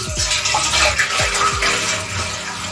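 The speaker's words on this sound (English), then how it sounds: "So for my tea, this is normally what I usually do. So I'll first put water." Water is poured into a pot to make tea, a steady splashing, gurgling stream with a few low glugging bubbles, close and continuous, no talk.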